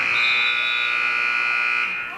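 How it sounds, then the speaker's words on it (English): A loud, sustained electronic buzzer ends the first quarter of a girls' junior varsity basketball game, blaring for about two seconds before cutting off, with faint crowd noise underneath. "the buzzer sounds, bringing the first quarter to a close"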